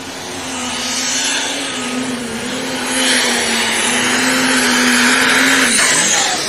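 Black Tornado Pro Stock pulling tractor at the North Iowa Nationals, its engine holding a loud, steady drone that rises slightly midway and sustains throughout, no talk over it.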